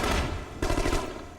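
A submachine gun firing in the video game The Conduit, two rapid bursts of loud, crackling shots, close and dense, with no talk.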